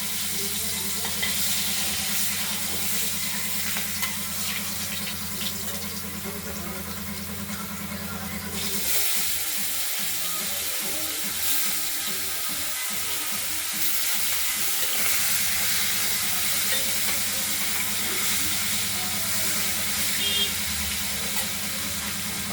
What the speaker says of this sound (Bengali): কড়াইতে আমরা আগেই তেল দিয়ে রেখেছি এটা গরম হয়ে গেছে তেলটা এবার মাছগুলোকে আমরা ভাজা করে দেবো